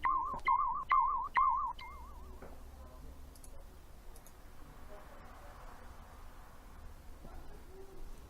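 Birds call in the Might and Magic fantasy video game: a warbling, hooting call repeats about four times in quick succession and is fairly loud, then it trails off into a quiet ambient background.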